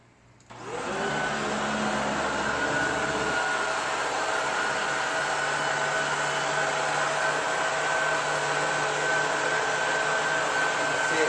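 A Shark Rotator upright vacuum cleaner switches on and quickly ramps up to full power, then holds a loud, steady roaring whine close by, with no talking over it.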